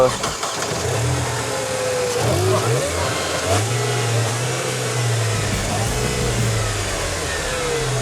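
Petrol engine in a Sprinter van cranks and starts, then settles into an idle broken by several revs that rise and fall. The engine is close and loud.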